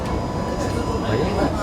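Steady rumbling hum of a moving passenger train carriage in Sichuan, China, with wheels and interior noise droning evenly while a voice talks over it.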